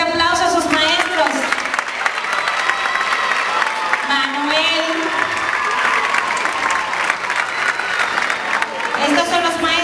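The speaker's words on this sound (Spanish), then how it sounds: "Imara, Irgania, démosle un fuerte aplauso a sus maestros." Loud crowd applause for teachers at a dance school event, running throughout, with voices calling and cheering over the clapping.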